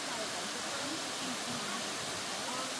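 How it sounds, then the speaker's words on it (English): Rushing water of Rocky Bluff Falls in Ferne Clyffe State Park: a steady, even broadband roar that holds without break for the whole stretch, with no distinct voices standing out. "Oh yeah, the waterfall."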